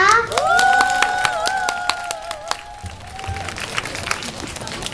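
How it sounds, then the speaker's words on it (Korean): Applause from an audience welcoming a first-grade class's dance performance, heard under a child's sung or tonal voice near the start, with claps fading into crowd murmur. "뜨거운 박수 부탁드립니다"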